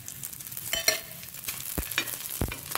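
Red chillies fry in a little oil in a pan, giving a soft sizzle broken by several sharp stirring scrapes and clinks of a spoon, close and fairly quiet, with no talk.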